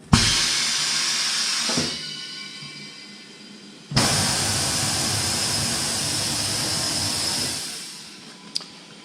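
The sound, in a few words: tire changer turntable spinning in reverse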